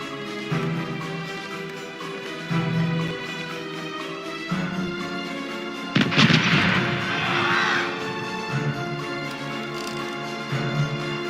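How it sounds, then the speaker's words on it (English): A naval cannon blast booms out midway through a ship battle in the pirate game Corsairs Legacy, a single loud burst with a rumbling tail, set against steady tonal music with lighter thuds around it. "Portside cannons are ready to fire!"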